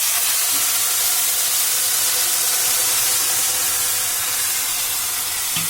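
Semai vermicelli frying slowly on a low gas flame, a steady, loud, continuous hiss like steam that barely changes from start to finish, with no talking.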